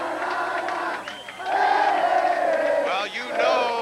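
A loud stadium crowd of high school football fans chants the "so long" cheer, sustained sung voices rising and falling in unison, with a brief dip before the chant swells again.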